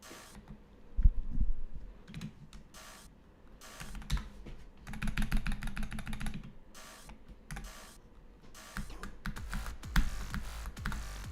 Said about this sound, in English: I'm gonna try not clicking as hard.